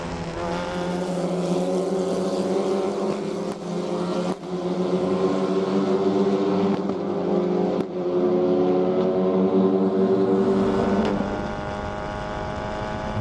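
F4 race cars running through a turn at Circuit of the Americas, a loud sustained engine wail with layered harmonic tones holding steady and then dropping away near the end.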